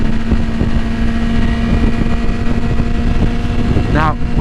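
A motorcycle engine drones steadily and loudly while riding, with wind buffeting the microphone, as a rider downshifts from fifth to fourth gear; a short rising rev surges near the end and a voice speaks over it.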